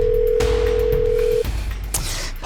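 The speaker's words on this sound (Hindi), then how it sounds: "फोन लगा बेटा, फोन लगा, इसे फोन लगा" A telephone call being placed, with a steady loud dial tone held for over a second, then a break into line noise and a brief click-like burst near the end, close and alone.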